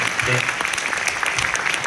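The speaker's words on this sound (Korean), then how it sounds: "여러분 다시 한번 감사의 박수 부탁드리겠습니다." Audience applause of thanks for the governor at a public town-hall dialogue with residents, a dense wash of clapping filling the whole moment with a voice briefly audible beneath it.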